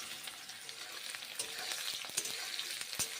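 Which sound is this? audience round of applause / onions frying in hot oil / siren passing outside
onions frying in hot oil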